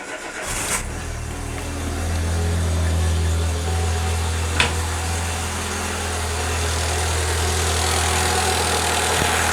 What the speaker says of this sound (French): on va allumer le moteur